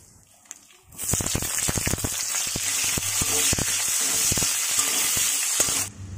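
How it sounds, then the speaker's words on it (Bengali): Cumin seeds dropped into hot oil in a slightly scorched wok (kadai) for tempering burst into a loud, close sizzle. Dense crackling and popping fill about five seconds before cutting off, with no voices. "জিরে দিয়ে দিচ্ছি ফোড়নে।"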